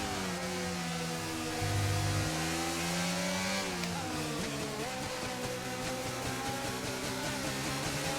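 Formula 1 race cars lapping Silverstone at night in an F1 racing video game, a steady loud high-revving engine whine with shifting pitch as cars pass and change gear, continuous throughout with no talk.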